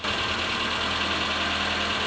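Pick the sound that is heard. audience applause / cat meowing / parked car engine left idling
parked car engine left idling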